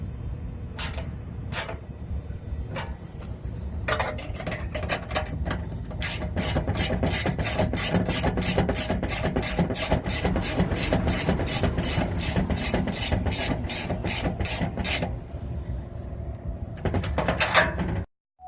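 A ratchet tightens the OEM bolts on a Can-Am X3 Max door kit, clicking in a fast, steady run of strokes close by, with a few short bursts before and after the main stretch.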